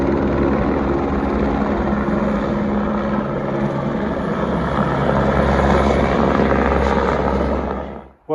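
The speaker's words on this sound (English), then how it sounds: "The helicopter's going to take off here." A helicopter taking off at the Grand Canyon, its rotor and engine a loud, steady roar that fills the scene without a break before cutting off abruptly at the end.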